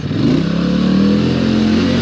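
A Polaris Sportsman ATV fitted with a high lifter kit revs its engine in mud, a loud, close, sustained drone with rising pitch and a rough, rumbling edge.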